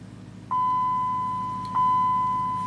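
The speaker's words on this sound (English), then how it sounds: "this beeping is going to be super annoying" Car diagnostic equipment, hooked to a Ram with a Hemi V8 misfiring and running rough, emits long steady electronic beeps, one starting about midway through and a second tone following, over a low idle hum.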